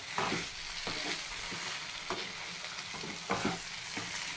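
Boiled eggs are sautéed and stirred in a spicy masala for a village-style egg curry: steady sizzling frying hiss with repeated scraping stirs of the spoon against the pan, close and alone.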